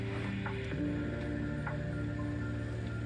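A Cornwell Tools ratchet wrench loosens a tie rod jam nut on a 2008 Polaris Trail Boss 330, giving a quiet, faint run of ratcheting clicks.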